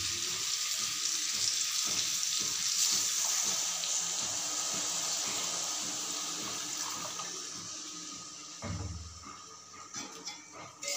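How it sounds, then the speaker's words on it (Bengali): Water is poured steadily into a pan of mourola fish curry, a close, continuous splashing and hissing that tapers off near the end and gives way to a short clatter. "এবার আমি জল দিয়ে দেবো"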